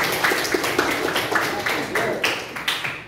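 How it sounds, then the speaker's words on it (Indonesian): A classroom of students claps together in a quick, patterned rhythm, producing close, sharp repeated claps for a few seconds. "Tepuk tangan semuanya."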